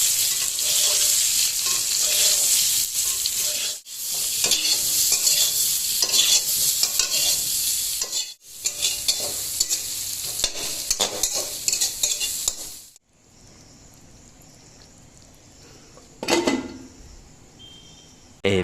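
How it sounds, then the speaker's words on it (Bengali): Rice, potatoes and eggs cook together in one pot, giving a loud, continuous bubbling and sizzling hiss. It breaks off in a few short gaps, then drops to a much quieter simmer near the end, with a couple of faint clinks. "এদিকে হাঁড়িতে চালের সাথে আলু আর ডিম দুটোই দিয়ে দেওয়া হয়েছে।"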